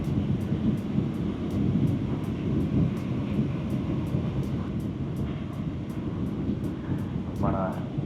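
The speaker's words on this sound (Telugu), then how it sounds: "yes it's just about to land now." A steady, loud low-pitched roar fills an airliner cabin as a flight from Denmark to Norway descends toward landing, with faint regular ticking above it and a brief higher whine near the end.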